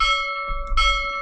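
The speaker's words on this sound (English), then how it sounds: "You hear those bells?" A few bright, ringing bell tones sound close and loud, their clear pitches sustaining and overlapping, with a second strike partway through.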